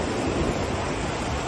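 Steady broadband roar of a waterfall beside a campsite on the Kungsleden trail in Swedish Lapland, constant and fairly close with no other sounds.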